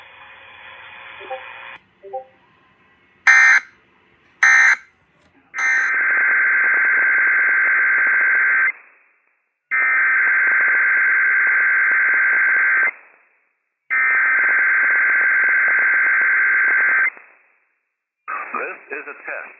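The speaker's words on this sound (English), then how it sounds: "This is a test of the emergency alert system of the inland northwest area." Emergency alert system test tone broadcast on radio: after brief data bursts and short buzzy pulses, a loud, steady electronic tone plays in three long blocks separated by short silences, with a clipped burst at the end.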